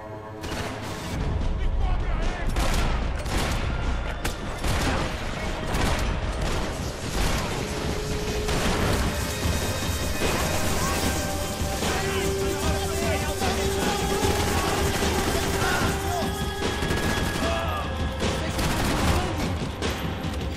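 Dense gunfire from the shooter game Max Payne 3 fills the whole stretch: rapid bursts, single cracks, mechanical clatter and crashes, loud and nearly nonstop, with someone talking over the shooting.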